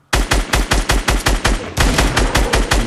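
Rapid automatic gunfire in Fortnite, loud and close: a burst of about a dozen evenly spaced shots followed by a denser, continuing stream of fire, with no voices.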